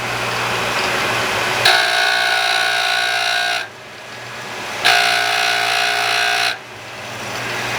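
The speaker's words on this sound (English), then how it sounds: "this machine is our lifter grinder. Every lifter gets resurfaced on this machine and polished" Lifter grinder resurfacing an engine lifter, two sustained bright grinding passes of about two seconds each with a steady machine hum running underneath throughout.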